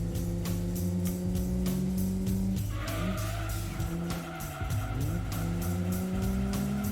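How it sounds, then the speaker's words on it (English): Racing car engine in the Gran Turismo 2 video game, revving and blipping through a downshift rev match, with a steady loud engine drone, pitch swings and a stretch of tire squeal, no talk. "That was really good rev match sound."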